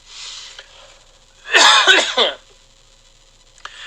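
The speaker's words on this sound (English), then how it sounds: "I keep coughing in the mic" A single burst of dry-throated coughing close to a microphone during a live card-game commentary, loud and rough for about a second, with quiet room noise before and after.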